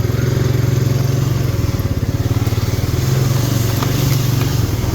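A Honda four-wheeler ATV with independent front suspension and a solid rear axle is ridden through woods. Its engine gives a loud, close, steady pulsing chug that rises and falls gently throughout.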